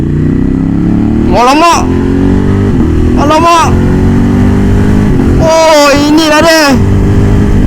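An X-Cape 1200 motorcycle engine idles steadily on a wet road and swells in short revs while a person speaks in brief bursts over it.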